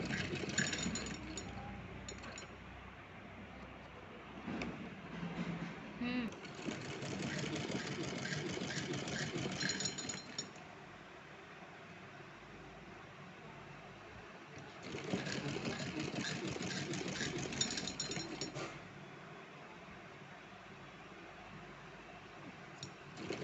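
A sewing machine stitches a net-fabric frill for a small deity dress, running in long steady motor bursts of several seconds with a pause between them, fairly close and moderately loud.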